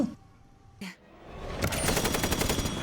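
A quiet moment with a brief thump, then a burst of rapid automatic gunfire from the horror film The Cabin in the Woods, dense and loud, continuing to the end.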